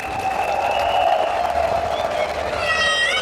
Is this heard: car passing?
no